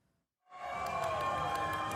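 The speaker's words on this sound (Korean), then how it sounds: "시민들이 큰 목소리로 환호하자" An outdoor crowd cheers and shouts loudly for Donald Trump as he appears in golf clothes, a sustained roar that rises abruptly out of near silence and holds steady.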